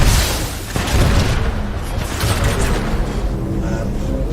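Enemy gunfire in the shooter game Titanfall 2, heard as a dense, continuous barrage of booming shots and rumbling impacts that stays loud throughout with no pauses.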